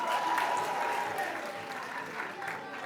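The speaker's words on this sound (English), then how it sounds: "Let's clap hands for him." An audience at a comedy show breaks into sustained applause, a thick continuous patter of many hands, fairly loud and even, with faint talk mixed underneath.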